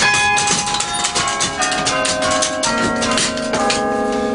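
Carillon bells of the Collegiate Church of Saint John in Liège play a dense, ringing melody, many overlapping tones sounding loud and close with long resonant decay.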